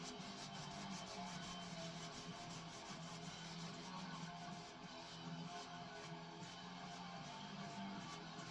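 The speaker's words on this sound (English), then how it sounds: "Getting the excess paint off." A steady, faint rubbing of cloth over a Milky Way galaxy painting, lifting excess paint in one continuous scrubbing texture.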